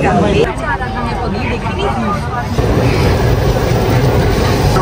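A Kolkata underwater metro train rumbles along underground with steady low noise on its inaugural run, while a crowd murmurs and chatters close by throughout.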